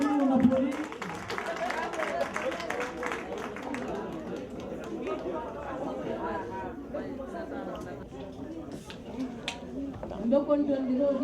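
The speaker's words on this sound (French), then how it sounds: "On applaudit, on applaudit." Crowd applause at a political party rally of the MDSE, steady clapping mixed with chatter and voices through the whole stretch, with a voice speaking over it.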